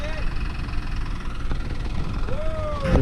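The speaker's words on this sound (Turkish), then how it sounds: "Görmüş olduğunuz gibi karşıda bir traktör çalışıyor." A New Holland tractor runs in the distance across village pasture land. Its low, steady engine hum sits under faint background noise, with a few thin whistle-like tones passing over it.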